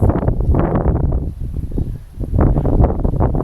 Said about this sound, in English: it's very windy again